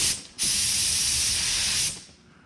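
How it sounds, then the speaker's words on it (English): Astro EuroPro EVOT paint spray gun spraying about 8 inches from the surface: a loud, steady broadband hiss of atomizing air starting after a brief puff, holding for about a second and a half, then cutting off to quiet. "So there's the spray pattern. You can see it. Pretty good wide spray pattern."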